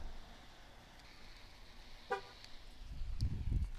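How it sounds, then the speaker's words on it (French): A 2018 Chevrolet Suburban's alarm gives one short horn toot, heard faint and from a distance against quiet outdoor background noise, followed by a low rumble. "c'est l'alarme parce que toutes les voitures américaines, enfin, en tout cas sur ce continent, ont toutes une alarme qui fonctionne avec le klaxon."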